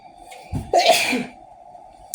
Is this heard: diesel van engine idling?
no